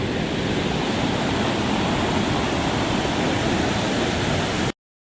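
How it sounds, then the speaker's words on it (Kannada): Hot spring water gushing out on the Kedarnath route, a dense, loud, continuous roar of rushing water up close, cutting off abruptly near the end. "ಬಿಸಿ ನೀರು ಉಕ್ಕಿ ಬರ್ತಿದೆ"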